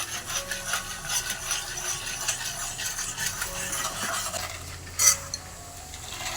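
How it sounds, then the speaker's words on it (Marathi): Dal stirred with a spoon while dry-roasting in a pan for thin poha chivda, giving rhythmic scraping and rubbing strokes of moderate level, one sharper knock near the end, with no voices. "आता हे डाळ आपण अशीच भाजून घ्यायची"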